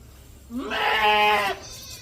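A goat on a farm gives a single close, loud bleat lasting about a second, its wavering, quavering tone standing alone against a quiet background.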